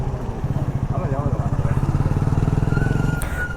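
A Bajaj Platina motorcycle, used as a bike-taxi in Ahmedabad, runs steadily while being ridden, its engine pulsing in a close, even rhythm with a voice talking over it.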